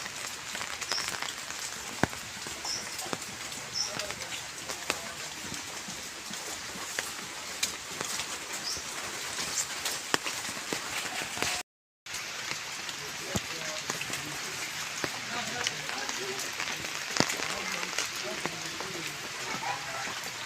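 Steady rain patters densely on a surface, a continuous hiss with scattered louder drops, broken by a brief moment of silence midway.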